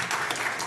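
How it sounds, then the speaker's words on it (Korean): A church congregation claps at a Sabbath worship service, a brief patter of many hands, moderately distant and steady. "자, 진짜 박수 칩니다."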